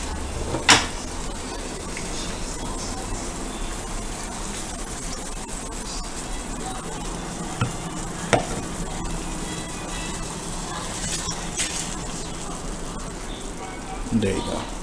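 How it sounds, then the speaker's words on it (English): Pork chops cook in boiling broth with soy sauce and onions, giving a quiet, steady simmer and sizzle with a few sharp clanks of utensils or a pan. "now that we've got this mixture of the broth and the soy sauce and the onions boiling, now we're going to add the pork chops back in"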